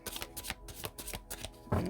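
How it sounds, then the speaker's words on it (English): Tarot cards being shuffled by hand at a reading, close and crisp, with a steady series of riffling bursts and soft flutters ending in a louder snap as the deck settles; no one talks. "One more shuffle through."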